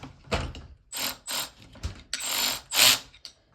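Bolts being loosened on a Kawasaki KX100 engine case, giving a series of close ratchet clicks in several separate bursts, moderately loud with brief pauses between them.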